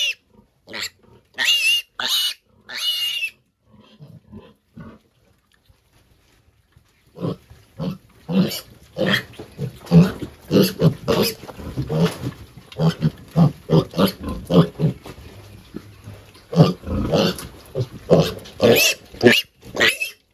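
Piglets eat for the first time at their mother's feeder on a small pig farm, grunting, squealing and jostling in dense irregular bursts after a quieter stretch, close and loud.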